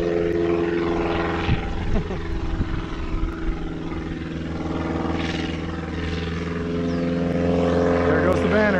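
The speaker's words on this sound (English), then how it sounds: "There's two planes landing" Propeller airplanes flying low over a prairie while landing, one towing a banner, a loud droning engine roar with shifting pitch that rises and falls as they pass, with people talking outdoors.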